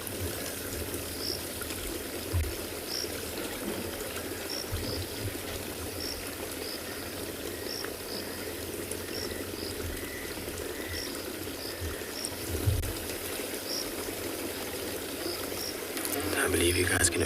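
Continuous running water of a stream during an afternoon safari in South Africa, a steady even rush heard close, with faint repeated chirps of frogs or insects above it and a brief thump near the end.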